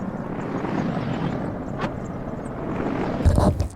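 Steady broadband whir of a helicopter ferrying food to a shopping center in the city-builder game Workers & Resources: Soviet Republic, holding constant throughout before a brief louder swell near the end.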